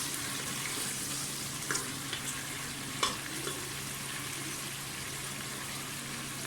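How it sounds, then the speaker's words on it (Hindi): Onions and chicken fry in a pan for chicken nihari, giving a steady, close sizzle broken by a few light clinks of stirring. "प्याज को अच्छी तरह से फ्राई होने दें। चिकन हमारा भुन गया अच्छी तरह से।"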